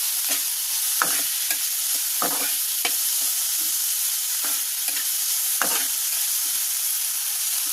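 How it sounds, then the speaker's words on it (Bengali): Green chilies, dried red chilies and garlic frying in a little oil, a steady bright sizzle broken by repeated scraping stirs of a spatula at an uneven rhythm, close and clear with no speech. "এখন এটাকে ভালো করে নেড়ে চেড়ে নিচ্ছি"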